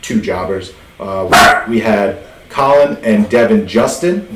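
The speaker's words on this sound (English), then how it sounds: "Yes, that is my dog over there. He's making noises." A dog barks and yips repeatedly in the background while someone talks steadily over it, the barks coming in short bursts mixed into the speech.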